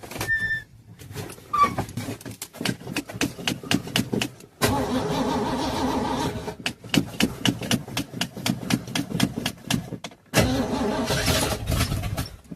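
A truck engine being started cold: the starter cranks in rapid repeated bursts, catches briefly, dies and cranks again, then rumbles at idle, loud and close with no voices.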